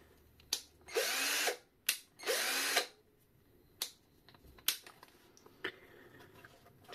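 An 18V cordless impact drill fires in two short bursts, each winding up and whirring briefly, between scattered clicks and handling knocks in a quiet room.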